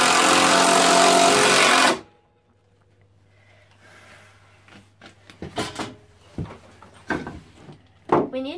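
A power screwdriver driving screws into the frame of an electric soap-box racer: a loud steady whirring burst for about two seconds, then quiet workshop clatter and knocks close by.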